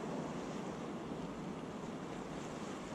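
Stormy sea with crashing waves and howling wind, a dense continuous roar that stays even and moderately quiet, with no voices.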